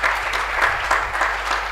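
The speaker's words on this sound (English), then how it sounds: "I think that deserves a round of applause." Applause from an audience at a university public lecture in South Africa, steady and dense across the whole span with a few brief swells, moderately loud and fairly close.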